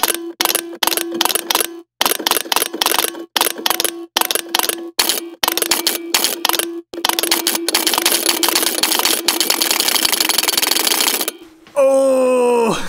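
A homemade electromechanical shaker instrument, heard directly through piezo contact microphones, clicks in loud, close, rhythmic bursts separated by short gaps, then runs as a continuous rapid rattle before stopping abruptly and giving way to a brief tonal whine.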